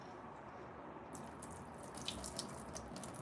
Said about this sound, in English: So I'm going to strain the rest of this water.